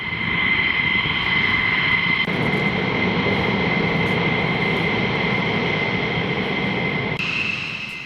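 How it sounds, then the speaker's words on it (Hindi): Israeli fighter jets in flight, a loud, continuous engine roar with a steady whine that holds throughout, with no speech. "इजरायली जेट्स जिन्होंने उड़ान भरी इजरायली एयरबेस से"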